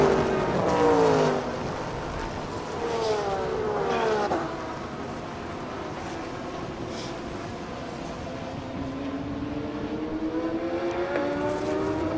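GT3 race cars, a Honda NSX chasing an Audi, roar past on a circuit in the B-Quik Thailand Super Series, with rising and falling engine notes as cars pass, an announcer talking over the track noise.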